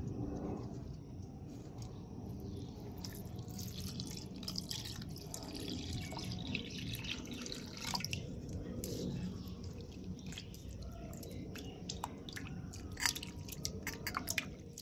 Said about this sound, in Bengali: চিড়েগুলোকে 2-3 বার ধুয়ে পরিষ্কার করে নিয়েছি।